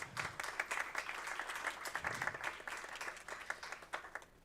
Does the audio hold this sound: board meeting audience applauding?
yes